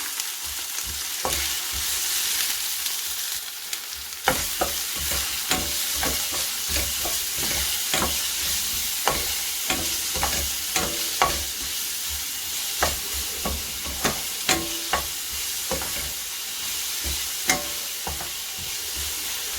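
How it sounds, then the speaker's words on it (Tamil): Curry leaves and white onion sauté in oil in a pan for a chicken devil dish, a steady sizzle running throughout with frequent sharp clicks and scrapes of a spoon stirring, close and fairly loud, with no voices. "இப்போ கருவேப்பிலை கொஞ்சம் போட்டுக்கோங்க. இப்போ பச்சஞ்சி வெள்ளை வெங்காயம் கொஞ்சம் போட்டுக்கோங்க. கொஞ்சம் சாடை போடுவோம்."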